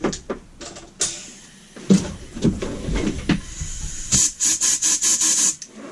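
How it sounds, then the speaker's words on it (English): Compressed air blowing out a threaded hole during bolt and thread repair on a Lister D engine, with short hissing bursts in quick succession near the end, preceded by clinks and handling noises close by. "Clean it with a bit of compressed air."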